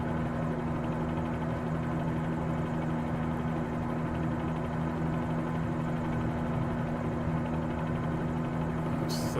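A Bell 47G helicopter's engine and rotor drone on steadily from inside the cabin in flight, a loud, unbroken hum with a low throbbing tone throughout.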